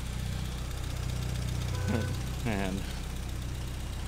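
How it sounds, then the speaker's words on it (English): A 1959 Triumph TR3 A engine idles with a steady low rumble, while someone speaks briefly over it. "So far, the idle's idling really nice."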